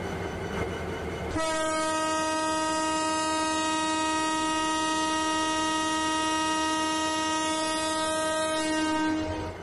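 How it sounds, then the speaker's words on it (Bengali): Rangpur Express passenger train sounding a loud, sustained multi-tone horn that begins abruptly and holds steady for about eight seconds as it prepares to depart, with rumbling rail noise underneath. "আমাদের রংপুর এক্সপ্রেস কিন্তু ছাড়ার জন্য প্রস্তুতি নিচ্ছে"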